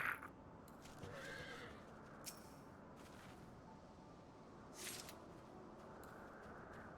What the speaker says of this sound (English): You gonna get that Garuda horse? The Garuda horse is pretty dope.